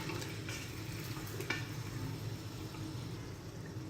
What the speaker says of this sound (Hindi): अब यहाँ पे हम कम से कम इसे 5 से 7 मिनट के लिए भुनाई करेंगे इसकी।